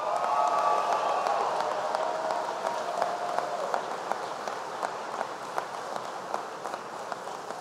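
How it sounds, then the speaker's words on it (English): A large audience at a military thank-you event gives a round of applause, a broad wash of clapping with scattered sharp individual claps that thins gradually over several seconds. "Give them a big round of applause."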